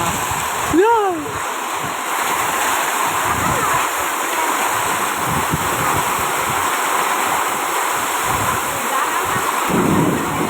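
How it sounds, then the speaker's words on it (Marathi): Heavy hail pounding down during a storm, a dense continuous roar and rattle of hailstones striking, with a voice briefly heard over it. "मामूर गारा पडतो मामूर."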